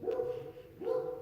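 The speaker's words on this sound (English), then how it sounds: "And my dogs are barking" Pet dogs bark twice indoors, two short sharp woofs a moment apart at moderate distance, with a faint quiet background between them.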